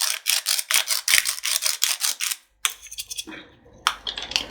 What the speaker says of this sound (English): So just some black peppercorns, I'll grind some of them into there.